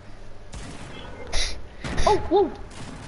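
Bursts of gunfire in the Fortnite battle royale video game crack out in several quick volleys, loud and close, while a player gasps and talks over the shots.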